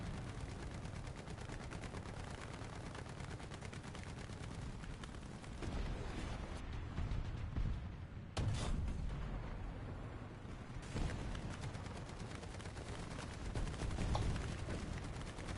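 Dense, continuous gunfire and booming explosions in War Thunder vehicle combat, a constant rumbling barrage with a few louder surges, no voices present.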